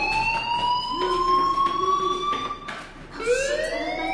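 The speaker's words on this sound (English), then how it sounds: "do you hear that fire alarm? That means you should be outside." A loud wailing alarm-type siren, heard alone, rising and sweeping in long tones with a brief dip before climbing again.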